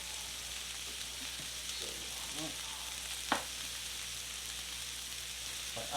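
Onions frying in a pan give a steady, close hiss of sizzling oil, with a single sharp utensil clink partway through and no talking.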